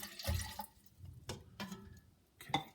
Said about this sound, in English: I got 60-degree tap water. So let's go ahead and put that in.